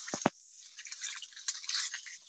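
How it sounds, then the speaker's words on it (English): Salt sprinkled by hand onto chopped green cabbage in a pan, heard as a few quick gritty bursts at the start, then a steady light sizzle and crackle of the cabbage cooking. No one speaks. "I'm gonna do a sprinkle of salt to help this release its water"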